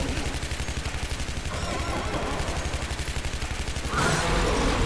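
Rapid automatic gunfire in the video game Shadow Warrior aimed at a winged enemy, a steady fast stream of close, loud shots continuing throughout with a heavier burst near the end.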